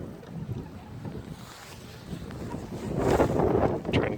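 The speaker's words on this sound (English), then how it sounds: "Trying to get out of the wind." Outdoor wind blowing in a Canadian winter beside a fenced chicken and rabbit enclosure with a greenhouse, a steady low rumble of buffeting across the mic that swells into stronger, louder gusts near the end.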